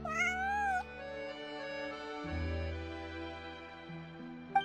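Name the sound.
cat meowing, from video game Genshin Impact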